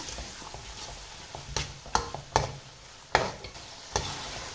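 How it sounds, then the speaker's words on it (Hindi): Peas fry in a spiced masala in a pan, a low sizzle under sharp scraping clatters as a spoon stirs them at irregular intervals, close and fairly quiet. "1 से 2 मिनट के लिए इन्हें फ्राई करेंगे,"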